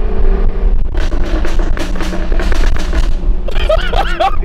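A Jaguar F-type S V8 on its stock exhaust lets out a rapid string of loud, close popping and crackling bursts over the rumbling engine, sharp sputtering cracks clustering toward the end.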